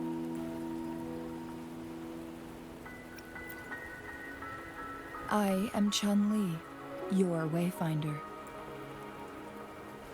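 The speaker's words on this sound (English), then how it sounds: "Don't worry. The rain won't last much longer." Rain falls steadily in the video game Wuthering Waves, a soft constant patter beneath a sustained musical tone, while a voice speaks over it midway.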